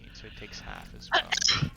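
A single short sneeze bursts out at the end of a tabletop role-playing session, cutting in right after a brief stretch of talk.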